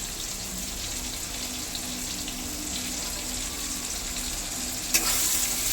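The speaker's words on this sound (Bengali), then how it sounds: "এবার এই মশলাটা ভালো করে কষাতে হবে" Ginger-garlic paste and chopped green chilli fry in oil for an egg curry, a steady close sizzle with a brief sharp clatter near the end.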